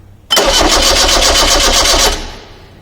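A car engine cranks and catches in one loud burst lasting under two seconds, with a steady rhythmic starter pulse, then fades away quickly.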